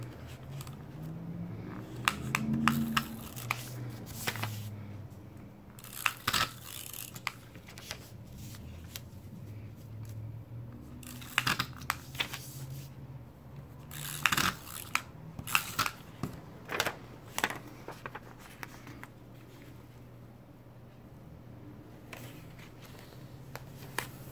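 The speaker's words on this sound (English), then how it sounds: "Again, I'll use my tape runner." A tape runner presses adhesive strips onto pages of a B6 Stalogy planner, giving repeated short clicky rasps and paper rustles close to the mic, in irregular bursts with no talking.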